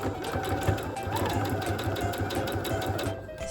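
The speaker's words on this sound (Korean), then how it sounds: "1cm로 봉제해줄게요." A sewing machine stitches a blouse seam at a 2.5 stitch length, its rapid steady needle chatter running evenly and close throughout.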